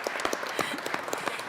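Visiting students in the Colorado Senate chamber receive applause, a dense burst of many hands clapping in a large hall, steady and fairly close throughout.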